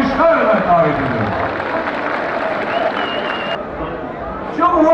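Enthusiastic applause and crowd noise at a ceremony welcoming a council president, a dense steady roar that fades slightly and swells again at the end, with voices mixed in.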